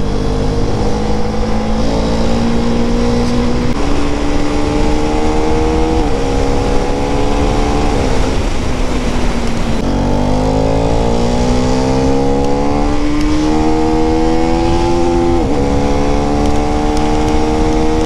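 A motorcycle is ridden along a flyover, its engine droning steadily and close with repeated rising and falling revs as it accelerates and shifts, a constant wind rush beneath and no voices.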